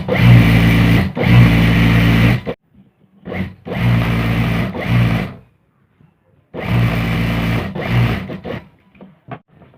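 A sewing machine stitches salwar fabric in loud bursts of whirring about two seconds long, separated by short silent pauses.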